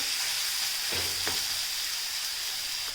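Onion frying in oil for a dry fish masala gravy, a steady close sizzle and crackle running the whole time, with a brief stir or scrape near the middle and no voices.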